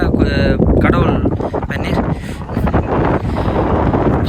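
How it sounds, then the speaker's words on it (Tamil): Cool wind blows at a hill temple near Kandy, a steady loud rush buffeting the microphone throughout while someone talks over it. "இதில் ஒரு ஜில்லுன்ற ஒரு காற்று அடிக்குது"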